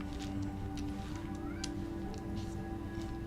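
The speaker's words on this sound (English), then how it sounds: "My cat just meowed, so that's a confirmation." A house cat gives a single faint meow in a quiet room, barely rising above a steady background hum, with no one talking.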